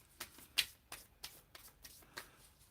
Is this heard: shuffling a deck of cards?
yes